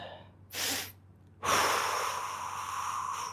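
Breathing during a stretching exercise: a short sharp inhale followed by a long, loud, close exhale, with a low steady hum underneath.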